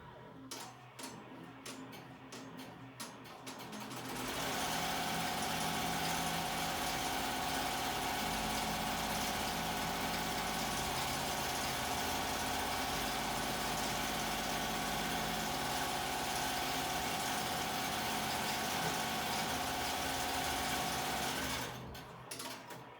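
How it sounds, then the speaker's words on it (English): An embroidery machine sews a placement stitch on a fabric mask with a wash-away stabilizer, a fast, even mechanical whir with a steady hum that starts after a few seconds of quiet handling and stops near the end. "I am going to sew the placement stitch"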